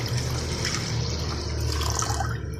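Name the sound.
pouring two glasses of water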